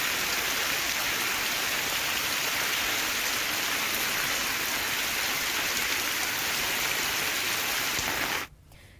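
Heavy early-morning downpour in Aravalli, Gujarat, a dense, steady hiss of rain on surfaces that holds evenly before cutting off abruptly near the end.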